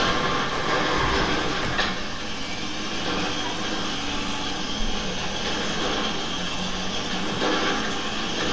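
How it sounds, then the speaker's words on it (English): A train rumbling closer in Grand Theft Auto V, a steady, dense mechanical roar with low rumble and broad hiss holding at constant loudness throughout, no voices. "I think I'm about to hit a train."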